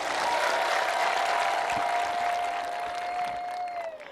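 Audience applause at a religious gathering, a dense steady patter of many hands clapping throughout, loud and close, with a sustained tone running beneath and slowly fading toward the end.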